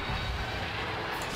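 Airplane flying overhead in the World War I game Valiant Hearts: The Great War, a steady broad engine drone that holds loud and continuous, with a slight swell near the end.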